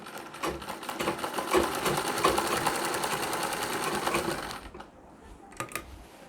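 A sewing machine stitches a chain into a nauvari sari, its fast, even needle clatter running steadily and fairly close for about four and a half seconds before stopping, followed by a couple of faint handling knocks.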